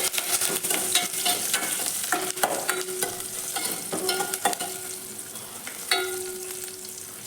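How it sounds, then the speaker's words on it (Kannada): Curry leaves and garlic with turmeric fry in a pan for egg sambar, a spoon scraping and stirring them in close, irregular strokes over a steady sizzle. "ಇವಾಗ ನೋಡಿ ಚೆನ್ನಾಗಿ ಮಿಕ್ಸ್ ಮಾಡಿ"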